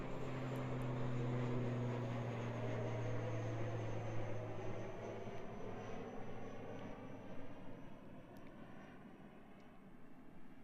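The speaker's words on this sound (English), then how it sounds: "Beautiful departure there from the ATR 72-600, which is NZ5328, off to Wellington again" An ATR 72-600 turboprop airliner departing Christchurch Airport for Wellington, a steady propeller drone with a low tonal hum that slowly fades as it climbs away into the distance.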